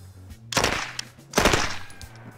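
Two short full-auto bursts from a rare, older Owen submachine gun, loud and close, separated by a brief pause, with a low hum underneath.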